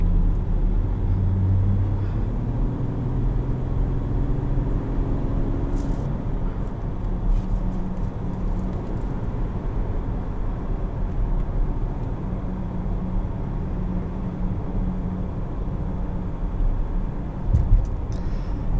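The 2021 Volkswagen Atlas SEL's V6 drones steadily from inside the cabin while cruising, a low, even hum with road noise throughout and no talking.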